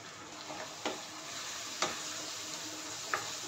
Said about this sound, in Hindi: थोड़ा सा भुनेंगे टमाटर के साथ ही मसालों को हल्का सा भुनेंगे